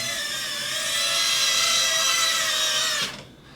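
A tiny square toy drone's propellers whine in a loud, steady high-pitched drone for about three seconds before cutting off abruptly into quiet.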